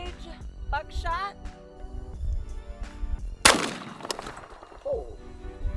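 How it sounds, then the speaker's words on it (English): A single loud 12 gauge buckshot blast fired at soft body armor cracks out once mid-clip, sharp and close, with a ringing tail, amid background talk. "Last, we have our 12 gauge buckshot."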